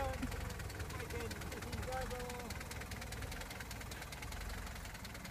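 A Mercedes diesel engine runs steadily with a knocking, rattly idle rumble, continuous and fairly close for the whole stretch, with voices faintly present in the background.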